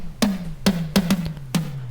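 Tom drum sample played dry with no reverb plugin, six quick hits with a falling pitch on each, close and clear with short grainy decay and no talk.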